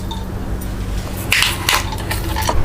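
Ground moong dal roasting in two tablespoons of melted ghee in a pan, with a steady soft frying hiss and a few louder scraping, wet stirring sounds.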